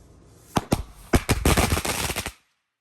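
Phantom Fireworks Wolfpack Cannonball firework going off outdoors: two sharp reports, then a rapid crackling volley of loud bangs lasting over a second before cutting to silence.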